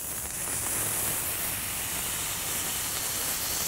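Smash burger patty frying on a preheated flat griddle gives a loud, steady, unbroken hiss of sizzling fat from start to finish.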